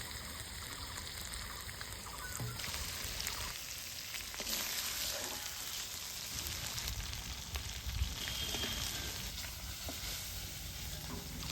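Chicken pieces fry in oil in a village-style kitchen, a constant dense hissing sizzle with faint crackles and a few soft knocks, close and fairly quiet, with no one talking.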